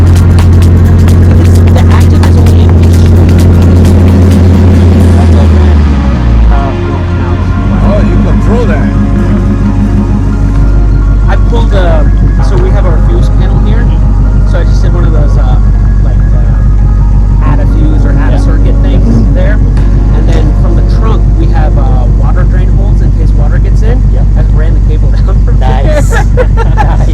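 A Lexus F car with a racing active exhaust rumbles loudly at a sunrise car meet, its deep drone dropping in pitch around the fifth second and then settling into a steady idle under crowd chatter and nearby voices.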